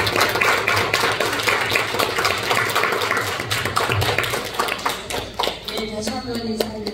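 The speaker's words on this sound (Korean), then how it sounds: "여러분, 위원장님을 뜨거운 박수로 환영해 주시기 바랍니다" An audience at a disability community care briefing in a hotel in Jeju claps to welcome a council committee chair. The clapping is fairly close and thins toward the end, where a voice begins speaking.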